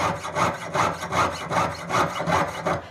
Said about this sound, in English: Silver is a little bit easier to cut than copper.